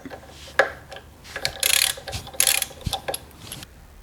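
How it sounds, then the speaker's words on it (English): A hose clamp comes off an FJR1300 motorcycle during left-side work with a 4mm box wrench: close ratcheting clicks, metallic rattles and scraping in short irregular bursts, with no talking. "Take off the hose clamp."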